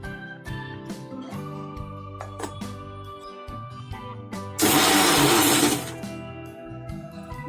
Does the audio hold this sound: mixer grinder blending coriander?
yes